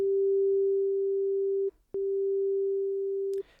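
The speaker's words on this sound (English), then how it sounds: "it basically sounds like our sine waves coming out through the middle" A pure, steady electronic sine tone from a Sytrus synth holds for about a second and a half, cuts off briefly with a click, then sounds again at the same pitch.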